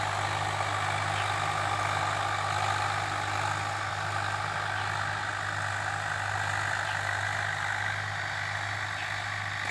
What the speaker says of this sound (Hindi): शेर देखिए किस तरह मिट्टी पलट रहा है ट्रैक्टर।